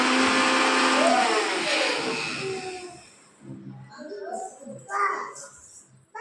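A mixer grinder grinds puliyodharai spice mix into powder, a loud steady whir for about three seconds that then cuts off, followed by quieter talk and household sounds.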